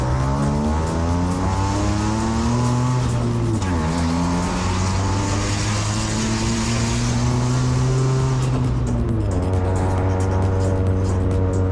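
Turbocharged single-rotor engine in a Mazda Miata roars loudly on a dyno, pitch climbing and dipping through revs in a continuous close run, with no talking.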